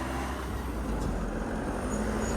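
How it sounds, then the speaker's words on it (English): A noisy van driving past on the road, a broad, steady engine and road roar at moderate level, with no voices over it. "just got a noisy van go past"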